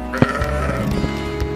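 A sheep bleats once near the start, a short wavering cry at a petting zoo farm park, followed by fainter animal and background noise.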